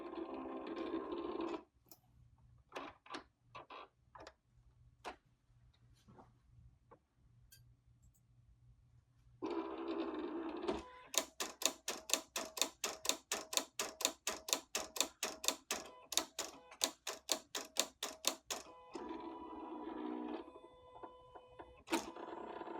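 A Silhouette Cameo 3 cutter slicing glitter heat transfer vinyl, with quiet motor whirs and sparse ticks giving way to a long run of rapid, rhythmic clicking and buzzing strokes, then settling into a low hum.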